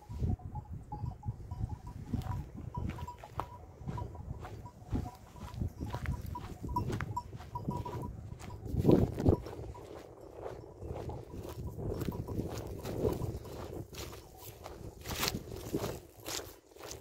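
A flock of startled sheep shuffles and moves with scattered hoof steps and rustling, and a few faint bleats sound early on, all fairly close.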